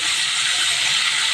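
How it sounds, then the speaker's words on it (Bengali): Prawns frying in hot oil give off a steady, loud broadband sizzle and hiss, continuous and unbroken with no voices. "দেখো বন্ধুরা, চিংড়ি মাছটা ভেজে নিচ্ছি"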